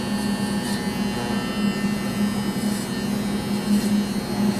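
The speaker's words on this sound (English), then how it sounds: "just kind of look at the angle of the clipper" An electric hair clipper buzzes continuously close up while cutting a fade haircut, a steady mid-pitched hum with slight rhythmic swells as the blade passes through hair.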